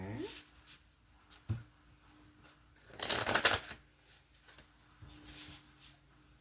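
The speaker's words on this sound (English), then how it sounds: "let's shuffle these a little bit more." Tarot cards being shuffled in a series of soft, papery riffles and flutters, with a louder burst of rapid card shuffling in the middle; a voice speaks intermittently over the handling.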